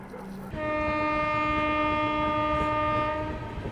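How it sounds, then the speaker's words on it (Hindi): Horn of the Amritsar Mumbai Express at 130 km/h during an overtake, a loud sustained multi-tone blast starting abruptly and holding for about three seconds over rushing rail noise, near and dominant. "गजब 130 की रफ्तार में फ्लैट ओवरटेक।"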